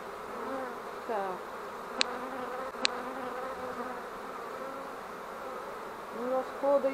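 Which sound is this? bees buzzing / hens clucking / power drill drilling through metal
bees buzzing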